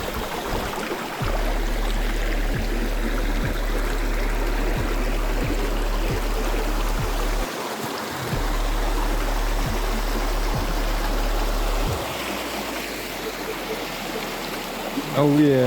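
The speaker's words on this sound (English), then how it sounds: "Just come here to this beautiful creek to fill up." A clear mountain creek near Victoria's tallest mountain runs close by, with a continuous bright rush and gurgle of flowing water. Repeated low thumps and footstep-like knocks sound beneath it, with a short dip near the middle.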